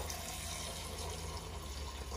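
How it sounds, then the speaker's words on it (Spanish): Water dispensed from a refrigerator into a glass after a filter change, a continuous hissing flow with sputtering air, close and steady for a couple of seconds, no talk. "Le voy a quitar un vaso de agua."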